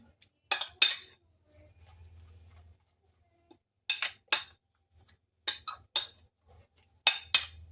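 A utensil clinks and scrapes against a bowl while cabbage omelette batter of eggs and cabbage is mixed, in short clusters of sharp, close taps separated by quiet pauses.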